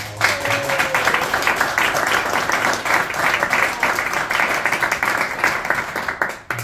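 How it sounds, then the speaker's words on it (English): A crowd at a poetry open mic breaks into sustained applause, loud, close and continuous, with a brief whistle-like tone early on before the clapping tapers off near the end. "So one more round of applause for all."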